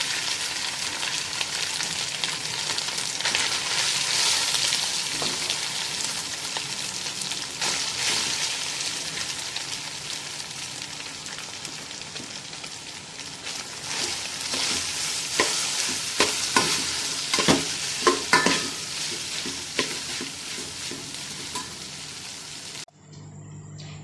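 Cooked rice being stirred into pongal in a pan, a long run of close scraping and sizzling with bursts of sharper spoon clatter toward the end, no voices over it.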